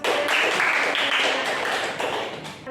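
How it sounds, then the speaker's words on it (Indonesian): Students in a classroom clap together, producing a dense, fairly loud burst of applause that runs steadily for a few seconds before thinning out. "Mari kita beri tepuk tangan"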